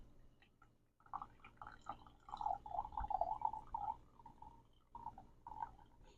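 Fig leaf tea pours from a French press in a soft, trickling stream with drips, faint and close, stopping briefly and then pouring again.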